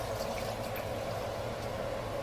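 Water pours into a pot of egusi soup on the stove as a soft, continuous trickling stream, fairly quiet and unbroken, with no talking.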